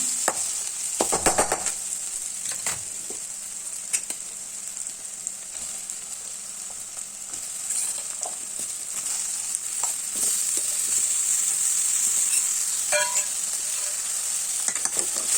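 Raw banana pieces and onion sautéing in a pan for South Indian valakkai poriyal, with a steady sizzle throughout and irregular scrapes and clatters of a spatula stirring, close and continuous, with no talk.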